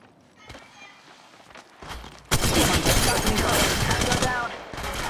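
Gunfire in Apex Legends Mobile: a few scattered footsteps and shots, then a sustained loud volley of rapid automatic fire bursts in and keeps going, close and dense.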